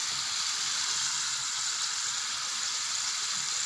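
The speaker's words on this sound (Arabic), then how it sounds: "بنجيب بطاطس ونقشرها ونحمرها بقى زي ما انتوا شايفين كده" Peeled potatoes frying in hot oil in a home kitchen, a steady close sizzle with dense crackling that runs unbroken throughout at moderate volume.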